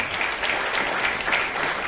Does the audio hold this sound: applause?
yes